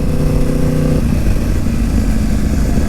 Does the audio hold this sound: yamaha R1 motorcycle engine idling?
yes